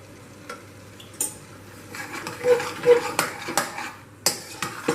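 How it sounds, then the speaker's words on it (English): A spoon clinks and scrapes repeatedly against a pressure cooker pan while spices are mixed into foxtail millet khichdi, uneven close taps over a soft sizzle. "I'll mix it nicely"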